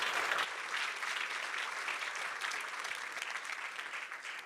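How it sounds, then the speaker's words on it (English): Steady applause from a conference audience, a dense even wash of many hands clapping throughout, moderately loud and without a voice on top. "Another round of applause for Albert"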